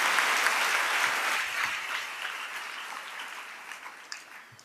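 A church congregation claps together in praise during a sermon, a full, dense round of applause that starts strong and slowly fades over several seconds, with no speech on top.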